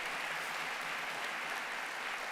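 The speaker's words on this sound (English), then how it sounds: "So how about a big round of applause for them?" Lecture audience giving a round of applause at an evening event, a soft, steady, even wash of many hands clapping, heard at some distance without talk over it.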